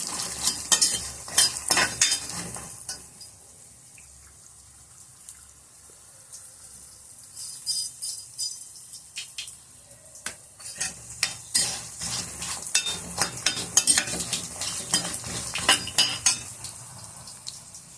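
Masala frying and being stirred in a pan for a bottle gourd curry: steady close sizzling with repeated scraping stirs that grow busier toward the end, a quieter stretch in the middle, and no talking.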